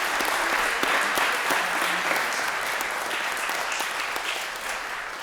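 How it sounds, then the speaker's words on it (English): Sustained applause fills the room at an EMS promotion ceremony, a dense crowd clapping steadily and tapering off slightly toward the end. "could you actually give yourselves a round of applause?"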